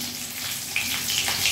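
Onion paste hitting hot oil for an egg dhoka curry, a steady close sizzle with brighter bursts of crackle as it settles in the pan, no voices.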